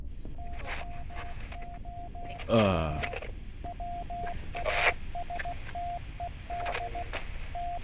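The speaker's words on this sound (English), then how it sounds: "For anybody that knows Morse code, feel free to figure that out." Morse code signal received over a radio at sea: a steady, clear tone keyed on and off in short and long beeps, broken by bursts of static crackle, over a low hiss.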